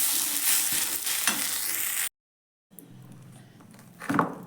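A vegetable chop mixture fries in a pan with a bright sizzle and stirring scrapes, cut off by a brief silence, then returning quieter with a louder scrape near the end.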